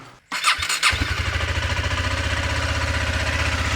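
A motorcycle cold-starts on a Ladakh ride morning, a brief crank followed by the engine catching and settling into a steady, rapid idle thump, close and loud.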